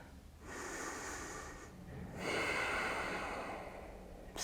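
Heavy breathing while holding a yoga camel pose: a long airy exhale, a short pause, then a second stronger breath, close and breathy, with no talking.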